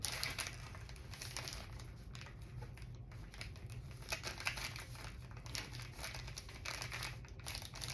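Crinkly craft paper, about 10 by 12 inches, is handled while being cut down for junk journal covers, giving quiet, close rustling and crinkling with a few soft taps.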